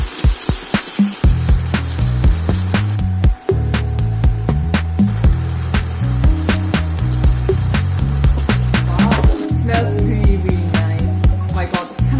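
Kimchi pancake batter frying in a non-stick pan, a steady close sizzle with crackling bursts, overlaid by background music with a regular beat.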